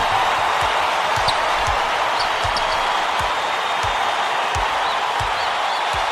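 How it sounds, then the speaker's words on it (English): A college basketball arena crowd roars loudly and continuously through an ACC Tournament quarterfinal between Clemson and top-ranked North Carolina, with basketball bounces thudding beneath the din. "Can you believe this crowd? Just listen to these people. They're going insane."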